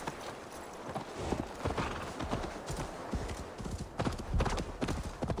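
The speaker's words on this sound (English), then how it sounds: "I'm stealing your horse." Hooves of a horse in the video game Assassin's Creed Valhalla clatter in a fast, rhythmic galloping clip-clop, fairly faint, with a brief whinny and some soft game ambience behind.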